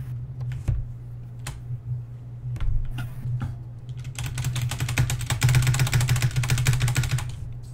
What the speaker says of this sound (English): Well, I have a loud keyboard.